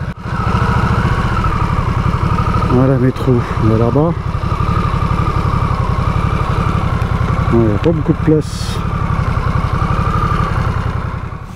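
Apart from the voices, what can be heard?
Harley-Davidson Nightster motorcycle engine idling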